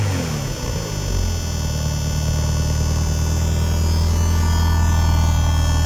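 A Ferrari 348 Spider sits idling, its engine giving off a steady, even drone with a constant low hum and no revving or speech.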